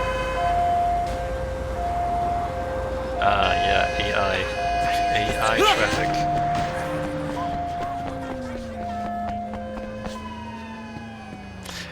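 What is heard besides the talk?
ambulance siren in the video game Sleeping Dogs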